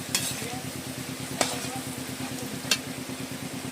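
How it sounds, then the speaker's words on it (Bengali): Food frying and being stirred in a pan, with a steady close sizzle and occasional sharp scrapes of a utensil against the metal, no voices. "নাড়াচাড়া করে করে তুলে নেব ভালো করে।"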